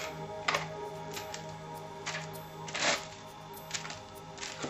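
Scissors snipping through pieces of videotape, a series of sharp, irregular cuts close by and fairly quiet, with light rustling between them.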